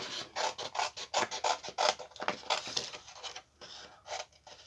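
Scissors cutting small paper egg shapes for spring scrapbook home decor, a close series of quick rasping snips in an irregular rhythm, with no talking.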